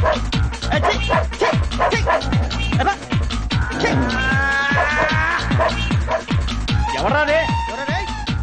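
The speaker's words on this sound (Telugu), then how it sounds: "అది నిజం కుక్క." A dog barks rapidly and loudly at close range in a fast, continuous run of sharp barks, with whining yelps mixed in partway through.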